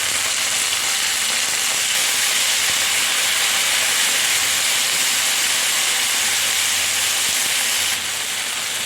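Ivy gourd pieces sizzling with crushed garlic in a hot pan, a loud, steady frying hiss that runs continuously and drops slightly near the end.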